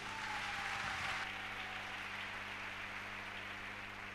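A church congregation gives a burst of applause acclaiming the word of God, a broad, even wash of clapping that eases slightly after the first second and carries on steadily over a low hum.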